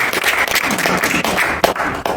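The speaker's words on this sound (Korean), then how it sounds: "다시 한번 박수 부탁드리겠습니다" Applause from an audience at a Korean political meeting, dense overlapping clapping heard up close and loud, continuous for about two seconds with one sharper clap near the end.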